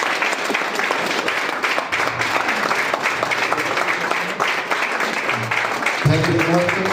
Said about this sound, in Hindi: जोरदार तालियां जोरदार।